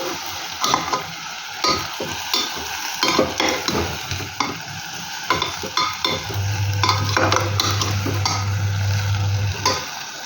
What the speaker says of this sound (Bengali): এরপরে এই সেদ্ধ করা ছোলা এটা অ্যাড করে দেব।